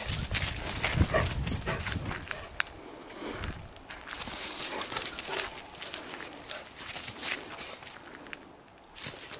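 A house dog at a hotel moves about close by on an outing, with scuffling and shuffling mixed with rustling noise and scattered soft footfalls.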